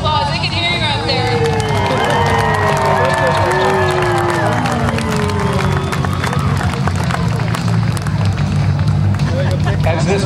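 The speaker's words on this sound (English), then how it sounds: "You guys, give them a great big round of applause." A crowd at the 2008 Blue Angels Homecoming air show cheers and applauds the USO Parachute Team during a night jump, a steady wash of distant crowd noise under a loud announcer's voice.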